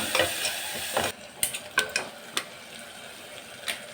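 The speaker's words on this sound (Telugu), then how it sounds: "దీన్ని బాగా కలుపుకున్నాము." A spoon stirs chilli powder and coriander powder into dhal in a pan, giving a close sizzle with a run of sharp scraping clicks against the metal, no talking.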